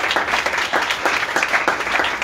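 A congregation at a prayer house claps together in thanksgiving, a dense, steady burst of applause filling the room without speech.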